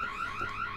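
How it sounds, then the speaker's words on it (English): A steady electronic alarm tone sounding in the video game Boo Men, a continuous whining pitch that holds level throughout without breaks. "Alarm's going off."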